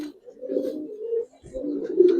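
A female Giribaz pigeon coos softly and close by just after being let go, two low throaty coos separated by a brief pause.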